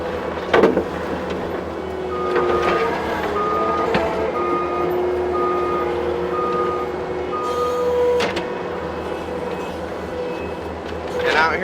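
A skid steer back blades around a drain tile while grading a wooded yard, its steady engine rumble running under repeated reversing beeps, with a loud clank near the start and again around eight seconds.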